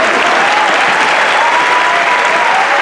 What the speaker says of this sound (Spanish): Pueden aplaudir, muchas gracias.